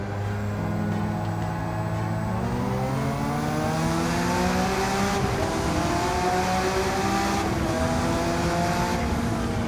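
Porsche 992 Turbo S in Gran Turismo 7 accelerating hard in one long gear, engine note climbing steadily and loudly throughout with a continuous rising whine and no talking.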